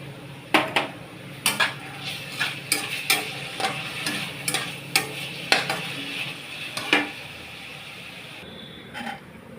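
Noodles with soy sauce stirred in a pan over a faint sizzle, a ladle knocking the pan in a regular rhythm of about a dozen close, sharp scrapes and clacks, with no talking.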